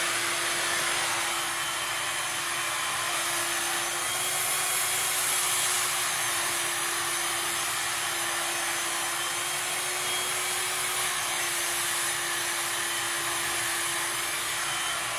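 A hair dryer blows steadily on long layered hair throughout, a loud, close, continuous whooshing roar with a constant motor hum and no talking.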